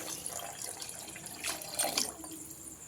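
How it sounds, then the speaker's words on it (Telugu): Water poured from a glass into a pressure cooker holding partly cooked chicken for biryani, a soft gurgling splash that rises briefly and then trails off, quiet and close. "ఇప్పుడు వాటర్ అయితే పోసేసుకుందామండి."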